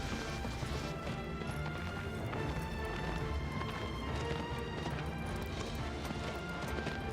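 Hooves of a small horse in a video game clatter in a quick, continuous running rhythm amid dense game noise, fairly faint and without talk.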